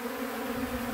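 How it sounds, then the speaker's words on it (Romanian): Honeybees hum steadily while drinking water mixed with vitamin C, salt and citric acid, a soft continuous buzz with no voices. "Cam așa beau albinele apă cu vitamina C, cu sare și cu sare de lămâie."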